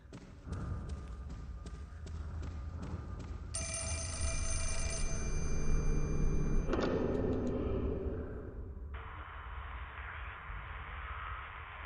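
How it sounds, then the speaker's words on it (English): In the video game Fatal Frame 4: Mask of the Lunar Eclipse, a telephone rings with repeated bell-like pulses, moderately loud over a muffled, rumbling game ambience, then other thuds and tones follow. "The phone is ringing."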